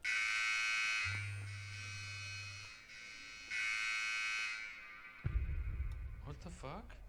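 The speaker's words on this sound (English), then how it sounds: "The missile alert is real." A missile alert warning tone blares as a loud, steady electronic buzzing alarm in several long bursts with brief gaps, followed by a low thump and a voice speaking at the end.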